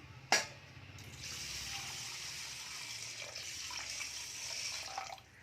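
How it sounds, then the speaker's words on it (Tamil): A brief clatter, then water pours steadily onto washed rice in a container for several seconds, a continuous splashing rush at moderate volume. "இப்போ இந்த அரிசி கூட கொஞ்சமாக தண்ணி ஊற்றிக்கலாம்"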